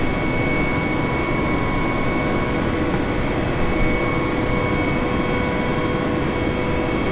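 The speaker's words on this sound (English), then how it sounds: "It's a pretty cool helicopter." A helicopter in Microsoft Flight Simulator 2025 makes a steady, loud, broadband engine and rotor drone that holds evenly throughout, with no voices.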